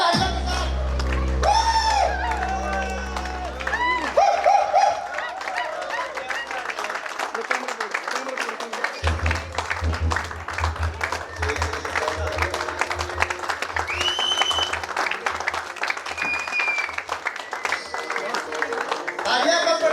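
A company audience at a Safedeal Spark event applauds and cheers for founder HS Sharma, a crowd of rhythmic clapping, whoops and shouts over loud stage music, with an announcer's voice at the start.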